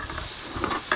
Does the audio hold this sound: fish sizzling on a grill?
yes